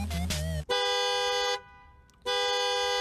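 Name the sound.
car horn honking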